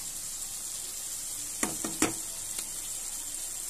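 Mustard paste goes into salted fish curry frying in a pan, over a constant close sizzle broken by a few sharp clicks of a spoon against the pan.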